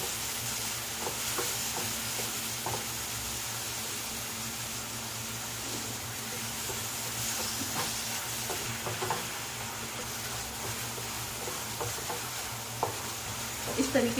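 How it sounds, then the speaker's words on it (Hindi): Two finely chopped ingredients for street-style pav bhaji frying in a pan, a continuous loud hissing sizzle with occasional scrapes and stirs of a spatula, close up and steady throughout, no voices. "तब हम ये इसमें डालेंगे, और दोनों चीज़ों को अच्छे से इन्हें भूनेंगे।"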